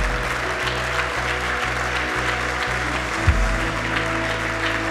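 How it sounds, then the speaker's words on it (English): A church congregation claps together during a Sunday service, a steady, full-room applause with sustained hum underneath and no voices on top. "Can we give the Lord a clap off for those who raised their hands this morning?"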